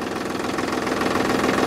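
A homemade tractor's engine idles and chugs steadily close by, a rough knocking rumble with even pulsing and no voices.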